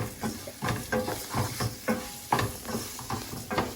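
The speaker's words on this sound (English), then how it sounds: "You hear the sizzle, you hear the pippity peppity pip." Soft, steady sizzling of rice toasting in a pan for risotto, with rapid popping and crackling, quiet and close, with faint stirring scrapes and no talking.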